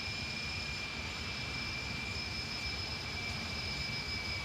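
Airbus Beluga jet engines roar steadily in X-Plane 12, a constant broadband rumble with two thin high whines running through it and no breaks.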